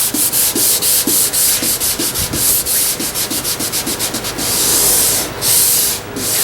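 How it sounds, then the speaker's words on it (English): Walnut wood being sanded by hand: close, steady back-and-forth rubbing strokes in a quick regular rhythm, then longer continuous passes, with no talking. "just take the time to give it a little bit of sand"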